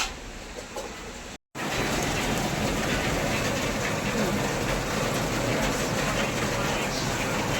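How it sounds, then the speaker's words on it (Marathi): Steady, dense rain falls outdoors, a loud and unbroken hiss that starts after a short silent gap and continues evenly to the end. "पाऊस येते"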